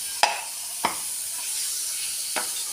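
Chopped tomatoes hit hot oil with a soft sizzle, followed by a few sharp stirring scrapes in the pan, close and moderately loud over a steady frying hiss.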